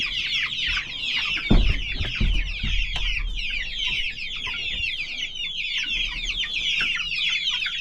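Young chickens in a brooder inside a chicken coop cluck and peep continuously in a busy, overlapping chorus, with a few louder thumps and scuffles close by.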